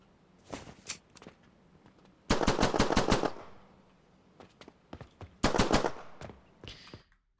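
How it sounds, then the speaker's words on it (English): Automatic rifle fire from an Unreal Engine 5 video game weapon demo: short scattered shots, then two sharp rapid bursts of roughly eight rounds each, loud and close, with quiet gaps between. "If you can pick up the rifle, you can shoot."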